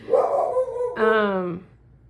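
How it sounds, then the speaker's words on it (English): Close by, a dog gives two whining, howl-like barks in a row, the second rising then sliding down, with quiet afterward. "Sorry for my dog barking."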